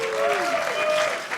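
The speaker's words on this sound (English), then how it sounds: "round of applause for just being ready like that" An audience at a lightning-talk presentation session breaks into brief applause, a dense even clatter of many hands throughout the short burst, with faint voices under it.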